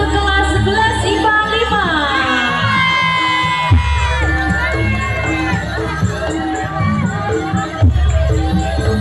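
Loud crowd noise at a school anniversary event in Indonesia for a class 11 science group: energetic cheering and shouting voices with music-like sustained tones throughout, dense and continuous, with individual clapping not clearly distinct.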